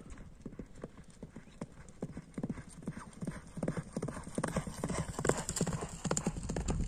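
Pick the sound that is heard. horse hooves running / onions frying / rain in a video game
horse hooves running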